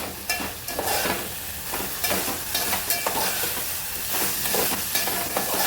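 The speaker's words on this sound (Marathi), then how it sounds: "मी आता यामध्ये तिखट टाकून घेते तिखटसुद्धा परतून घ्यायचं" Brinjal pieces with red chili powder stirred and sautéed in oil for a Marathi-style dry vegetable, a steady close sizzle with repeated scraping strokes of the spoon throughout, no one speaking.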